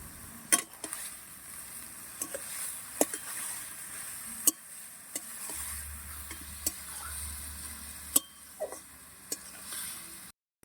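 Boiled banana flower and potato stirred and fried in a pan: a soft steady sizzle broken by scattered sharp ticks and scrapes of a spatula against the metal, with a low hum during the middle stretch.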